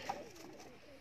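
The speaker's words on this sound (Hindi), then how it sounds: "ये उस्ताद से सलमान शाह गिलानी साहब का बेस्ट ब्रीडर कबूतर है माशाल्लाह" Coo of a prized breeder pigeon at a pigeon loft, a single soft low call near the start followed by faint background murmur, with no one talking.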